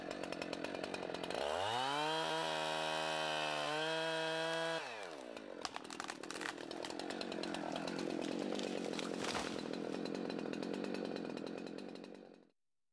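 A chainsaw cuts into a heavy leaning tree during tree felling, the engine revving up and holding a loud strained drone for several seconds, then grinding on through the wood with rough rasping until it cuts off abruptly.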